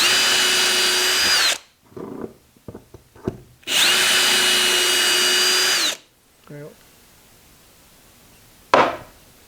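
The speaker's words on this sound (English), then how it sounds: "Then you can drill your other 1/8" pilot holes and nothing will move." A power drill boring 1/8-inch pilot holes whirs loudly in two bursts of about two seconds each, with light tapping and clicking between them and a sharp knock at the end.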